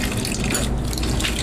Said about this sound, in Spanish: por el tubo superior de agua caliente empieza ya a rebosar agua